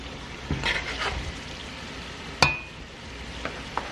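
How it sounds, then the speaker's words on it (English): Meat added to a hot pot of okra kalalou with garlic gives soft frying sizzles and a sharp splattering hiss as a piece lands, with light stirring clatter and no talk. "Okay, so now I'm going to start adding the meat in there."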